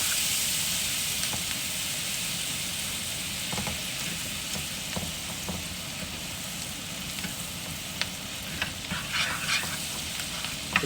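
Minced garlic frying in butter in a pan, a steady close sizzle with occasional stirring scrapes and crackles running continuously for about eleven seconds.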